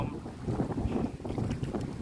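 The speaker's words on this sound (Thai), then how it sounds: "ลมแรงมาก" Strong outdoor wind buffets the microphone beside the water during a budget bottom-fishing trip using rice bran and bread bait, a steady low rumbling roar that runs loud and unbroken for the whole stretch.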